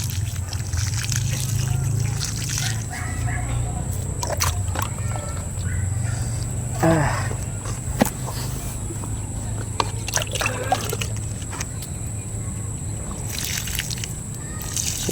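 Water from a hose or container poured and splashing onto eggplant plants in a garden, a continuous trickling and sloshing with occasional sharper splashes, someone talking intermittently over it.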